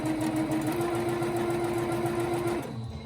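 Sewing machine stitching a small tarot card bag along a tiny seam allowance, running in one steady, loud continuous hum that stops just before the end.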